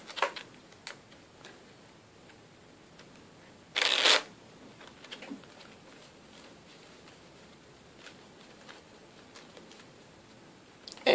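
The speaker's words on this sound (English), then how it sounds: "Shuffle these bad boys up." A deck of cards from the Superfight party game riffled once in a short, dense burst midway, surrounded by faint ticks and light handling noises in a quiet room.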